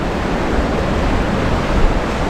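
Ocean surf breaks on a beach at Santa Maria, Cuba, making a loud, steady broadband wash that rolls on without pause and with no voices.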